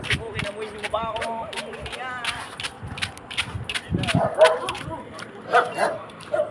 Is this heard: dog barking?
yes